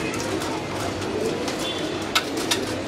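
Pigeons in a large hobby flock coo softly, with low repeated calls over a busy background and a couple of brief sharper sounds near the end, while a voice talks faintly.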